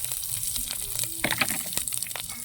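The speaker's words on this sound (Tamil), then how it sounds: "கடுகு போடுறோம். வெங்காயம் பச்சை மிளகாயம் போட்டுக்கோங்க." Mustard seeds, onion and green chilli frying in hot oil, a steady close sizzle with brief crackles and pops and no voices.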